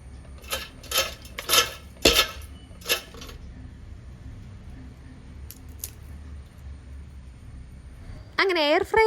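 An air fryer is opened to check crispy fried snacks for sharkara varatti: a cluster of sharp metallic clicks and clinks close by, then a quiet pause, ending with a brief rising electronic tone.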